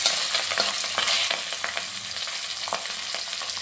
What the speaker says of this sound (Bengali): একটা দিক ভাজা হয়ে গেছে, আমি উল্টে পাল্টে আরেকটা দিক ভেজে নিচ্ছি